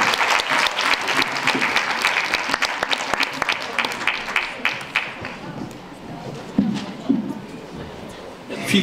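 Audience applause at the 2017 "Piosenka jest dobra na zimę" song festival in Szczecinek for Grand Prix winner Filip Rychcik: dense, sustained clapping from a crowd, gradually thinning out, with a few last scattered claps.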